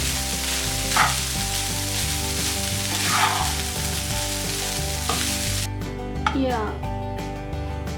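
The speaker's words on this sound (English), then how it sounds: "Now switch off the flame and mix well." Tamarind puliogare rice is stirred in a hot pan with the flame off, giving a soft sizzle and scraping under steady background music.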